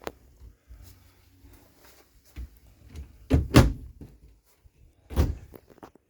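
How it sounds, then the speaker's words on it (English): Mirrored sliding closet doors in a 2018 Keystone Outback Superlite RV roll and latch, giving a couple of close, solid thuds and clunks between quieter rustling, with no voices. "Nice big mirrored sliding doors here. Doors just latch right here, and we can open them."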